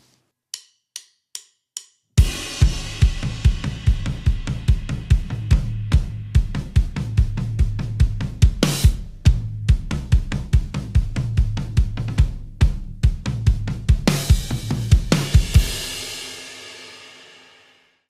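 Drum kit grooving through a bridge section after four sparse count-in clicks, a steady driving pattern of kick, snare and cymbals with regular accents, played alone and ringing out at the end.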